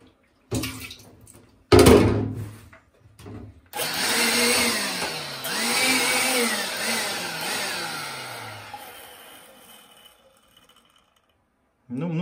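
A wet-dry vacuum fitted with a Makita 199553-5 cyclone separator sucks up water, opening with short bursts of roaring suction, then a sustained whining gurgle that rises and falls before cutting off.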